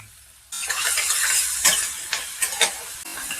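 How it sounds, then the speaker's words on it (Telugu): Onions fry in oil with ginger, asafoetida, green chilies and salt in a pan, a close, bright sizzle broken by several scraping stirs, with no talking. "టేస్ట్ తగ్గ సాల్ట్ వేసేసుకొని బాగా వేపేసుకుందాం"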